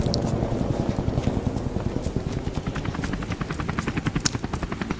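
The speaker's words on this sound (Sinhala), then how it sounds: "අපේ හෙලිකොප්ටර් එක එනවා." A military helicopter arriving in Call of Duty: Modern Warfare Remastered, its rotor blades thudding in a fast, steady rhythm that grows sharper and louder as it draws near.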